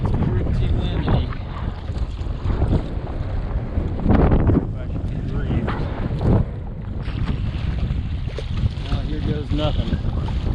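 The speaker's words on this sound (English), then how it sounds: "It's pretty windy." Strong wind buffets a sailboat on Florida Bay, roaring steadily across the mic with rushing gusts and water noise, with a voice speaking briefly partway through.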